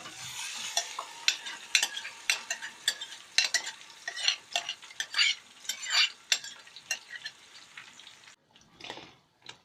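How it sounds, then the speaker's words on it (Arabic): Potatoes simmering in tomato juice in a pan, with a steady close sizzle and repeated sharp scrapes and clinks of a utensil stirring, stopping briefly near the end. "هنزل عليها بقى بعصير الطماطم"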